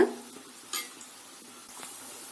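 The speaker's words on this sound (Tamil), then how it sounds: "பிஸ்கட் உள்ள சேர்த்துட்டு லைட்டா இது மாதிரி கலந்து விட்டுட்டே இருங்க" Wheat flour biscuit snacks fry in hot oil over medium heat, a faint, low sizzle with a few light scraping stirs and soft clinks from the utensil against the pan.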